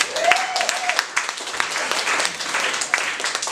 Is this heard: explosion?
no